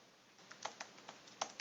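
Keys tapped on a computer keyboard at a desk, a short run of about eight quiet, irregular clicks against a faint background hiss.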